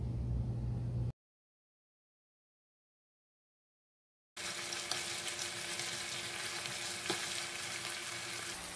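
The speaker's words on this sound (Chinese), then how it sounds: "我们放入腌好的肉煸炒，把肉片在油中滑散" Marinated pork slices stir-frying in oil with fried chili and scallions, making a steady, fairly quiet sizzle. It cuts to dead silence for a few seconds, then the sizzle returns with one faint clink.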